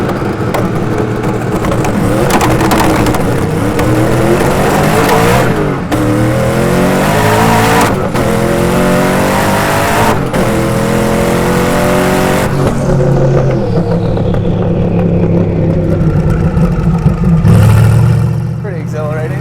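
A Hennessey Venom F5 hypercar with 1,817 horsepower roars through hard acceleration, its loud engine climbing in pitch through repeated gear changes with sharp breaks between shifts, then easing off near the end; voices talk briefly over it.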